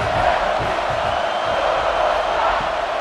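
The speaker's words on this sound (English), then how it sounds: "This crowd bringing the energy and noise early." Stadium crowd in a college football video game, Missouri versus South Carolina: a steady, dense roar of cheering and shouting that holds at an even level throughout, with no commentary over it.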